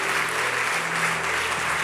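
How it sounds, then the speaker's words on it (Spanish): A church congregation applauds during a Sunday service, a dense, steady wash of many hands clapping together, loud and continuous with no gaps. "Y el aplauso al Rey del cielo."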